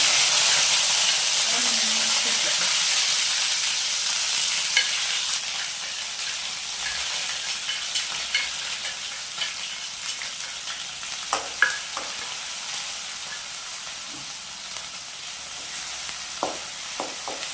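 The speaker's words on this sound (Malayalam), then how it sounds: "കടുക് പൊട്ടിയിട്ട് വെളുത്തുള്ളിയും കാന്താരിയും കൂടെ ചേർത്ത്" Garlic and bird's eye chillies sizzle in hot oil with popping mustard seeds, a constant close hiss scattered with sharp crackles and pops that grow more spaced out as it continues.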